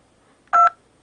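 A single loud electronic keypad tone, a steady dual-pitched beep lasting a fraction of a second, over a quiet background.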